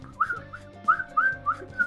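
A person whistles a few short, rising chirps in quick succession to mimic echolocation pings, clear and close against a quiet, faintly humming background.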